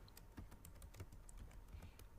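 Quiet keyboard typing, a steady run of soft key clicks at an even pace, close and faint, with no voices.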